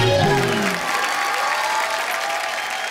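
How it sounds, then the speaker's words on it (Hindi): Studio audience on a TV comedy show applauds a guest with loud, sustained, steady clapping from a large crowd, with a voice heard briefly at the start. "जोरदार तालियां"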